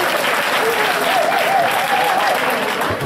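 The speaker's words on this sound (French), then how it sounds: "Et applaudissez encore pour la prison du Gabon." Loud, sustained applause from a large crowd fills the space evenly, with a few raised voices and cheers mixed into the constant clapping.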